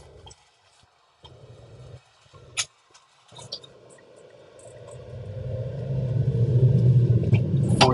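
A Honda Acty mini truck's small engine rumbles low and builds steadily louder as it turns and climbs a hill in Raphine, Virginia, with a few faint clicks early on and no talk.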